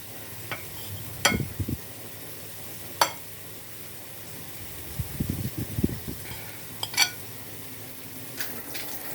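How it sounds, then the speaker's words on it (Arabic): Meat being sautéed in a pan, with a soft steady sizzle under repeated spoon or spatula scrapes and clinks against the pan, some sharp and others muffled, spread unevenly throughout and with no speech. "نشوح بقى اللحمة كده تشويحة"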